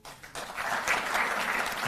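Steady crowd applause at a Delhi government ceremony honouring Olympic athletes, rising after a brief lull to a sustained, fairly loud ovation with no voices over it.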